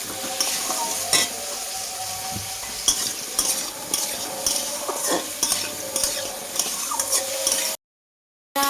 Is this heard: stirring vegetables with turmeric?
yes